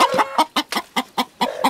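A large hen on a farm clucks in a quick run of about nine short, throaty clucks, close and fairly loud, with no talk over it.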